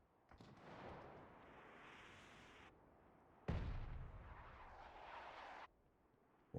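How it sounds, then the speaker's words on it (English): Mortar fire in the battle royale game PUBG arrives as two long, rumbling blasts, the second louder and deeper with a heavy low-end boom, each cutting off abruptly, followed by the onset of another. "we can see there's mortar fire involved"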